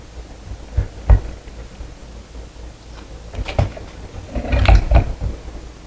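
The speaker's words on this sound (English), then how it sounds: "We're going to take our motor and we're going to slide our motor into this up here." A ceiling fan motor slides into its ceiling mount during installation, giving a few scattered metallic clunks and scrapes that are moderately close, with a busier rattle near the end.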